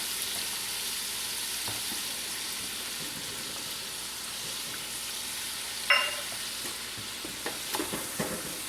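Onions cooking in a pot for onion soup, a constant soft sizzle with occasional scraping knocks from stirring, one sharper clank partway through.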